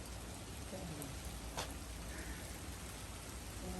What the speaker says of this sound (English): We got some rain today